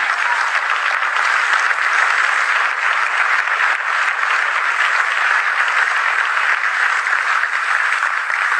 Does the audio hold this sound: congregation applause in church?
yes